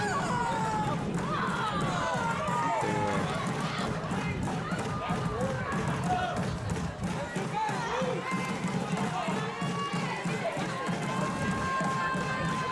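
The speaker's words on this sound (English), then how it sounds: "Calallen crowd's hollering she's out" Calallen fans at a regional semifinal softball game holler and cheer loudly and steadily from the stands, a dense crowd roar with a commentator talking over it.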